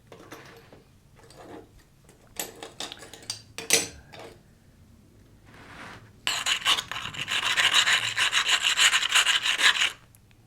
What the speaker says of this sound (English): So probably a good idea to clean them all and grind them down a little bit.